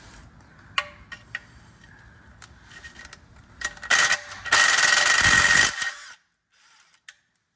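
A power tool whirs in short bursts, then in one longer sustained run, while removing oil pan bolts from a Toyota Camry, close and loud, ending in silence with a final click.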